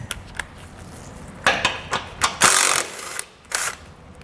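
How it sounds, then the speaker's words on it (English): A bolt is pulled out during a Roadmaster Direct-Connect base plate install on a 2022 Chevrolet, with several short, close metallic scrapes and clunks in uneven bursts. "I'll come back up here and pull this bolt out."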